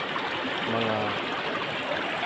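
A river running over stones and concrete-like rock, giving a steady, fairly loud broadband rush that holds constant throughout with no talk over it.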